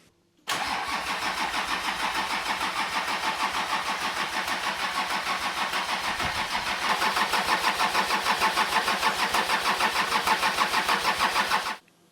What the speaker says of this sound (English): And then we'll bleed the injectors and it should just fire up.